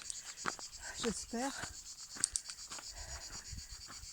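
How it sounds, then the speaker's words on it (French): Crickets chirp steadily in the background, a high thin trill, while a person speaks briefly in French over it. "On entend les grillons là."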